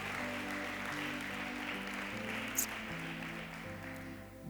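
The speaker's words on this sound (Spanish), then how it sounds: "Dale un aplauso a Jesús." A church congregation claps during a Spanish-language sermon: a sustained wash of applause, moderately loud, with steady tonal music or a held organ-like drone running underneath.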